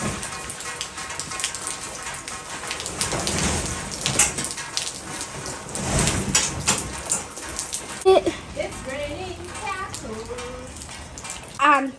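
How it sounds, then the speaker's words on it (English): Rain falling outdoors makes a steady, dense hiss for about eight seconds; then the rain fades back and a nearby voice sings and talks over it. "Yes, the rain has chased me out"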